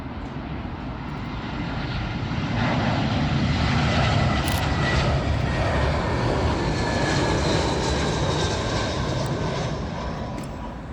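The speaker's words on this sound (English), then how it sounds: "Next up, we got another British Airways A320, this one from Geneva" A British Airways Airbus A320 from Geneva passes overhead on arrival to Heathrow runway 27L; its jet roar swells over a couple of seconds, stays loud through the middle, then eases off toward the end.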